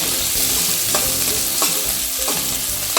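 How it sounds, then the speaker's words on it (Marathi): Onion and garlic sautéing in a pan with curry leaves for sambar, a steady close sizzle with spatula stirring scrapes recurring about every second, no voices. "थोडासा कांदा लसूण घालून आपण परतून घेऊया"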